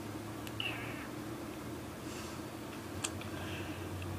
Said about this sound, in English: Oh, my little cat.